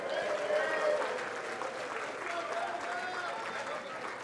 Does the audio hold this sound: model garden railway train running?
no